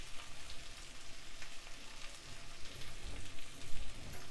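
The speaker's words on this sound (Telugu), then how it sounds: "ఇవి తక్కువ సెక మీద కాసేపు వేయించాలి. ఒక 5 నిమిషాలు ఇలా వేగినాక ఇందులో మనం సరిపడినంత ఉప్పు వేసుకోవాలి." Pieces of taro root (chamagadda) frying in a pan over low heat give a steady, soft crackling sizzle throughout, close by and with no speech.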